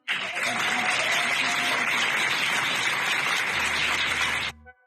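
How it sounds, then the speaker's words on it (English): Dense applause from a conference audience fills the room for several seconds at a strong, steady level, then cuts off abruptly near the end. "Let's do a clap."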